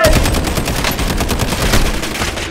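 Rapid, dense gunfire rattles through a video game firefight, continuous loud bursts of automatic shots with no pause, close and harsh throughout.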